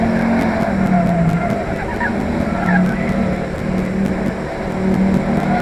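Race cars lap a circuit in a sim racing event, with engines droning steadily and continuously at mid distance and a few faint tire chirps mixed in.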